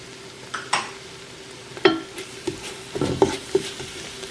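Spoon scraping and clinking in a pot as salt and garam masala are stirred into a Kenyan beef stew, several separate light knocks and scrapes at close range with a faint sizzle beneath, no talking.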